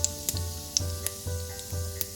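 A quarter teaspoon of cumin seeds spits and sizzles in a tablespoon of hot oil in a pan, with a steady frying hiss broken by sharp little pops and crackles, close and alone with no talking.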